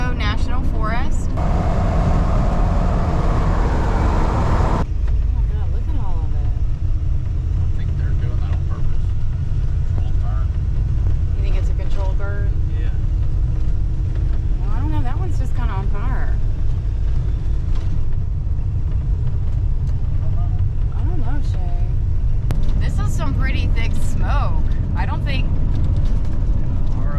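An RV rolls along a highway heading toward a national forest, its steady engine and road rumble droning close and continuous while people talk over it throughout.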